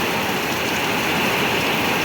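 Heavy rain pours down with strong gusting wind in a Gujarat village, a dense, unbroken roar that is loud and close and stays even throughout, with no voices.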